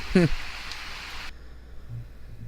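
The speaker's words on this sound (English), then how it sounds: "It's still raining now" Soft, steady rain patter from Hurricane Matthew heard from indoors at night, with a brief voice at the start and a low hum underneath.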